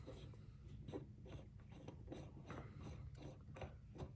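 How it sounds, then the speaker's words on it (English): A sight pusher's bolt is turned by hand to tighten it while fitting a night sight on a Glock 17, giving a steady run of close, quiet ratcheting clicks with no talk. "Start tightening up that bolt."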